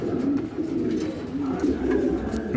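Healthy pigeons at a seller's loft coo steadily in low, throaty rolling calls, close and continuous, with faint rustling and small bird noises behind them and no clear talking.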